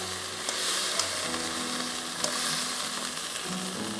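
Chopped onions sizzle and fry steadily in hot oil for a restaurant-style ginger chicken, a continuous loud crackling hiss with small pops and no talking.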